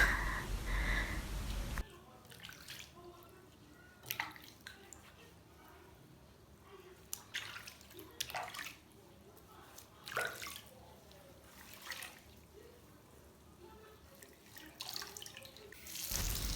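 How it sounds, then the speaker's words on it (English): A dirty human hair lace front wig is washed under a running tap, with soft splashes and wet squelches that come and go, quiet and close. "The water is not even lathering because of the amount of dirt in the hair."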